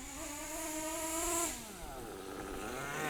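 A Kyosho USA-1 nitro RC monster truck engine revs up to a high-pitched whining peak, then drops off and settles into a lower, rougher rattle, heard faintly from a short distance.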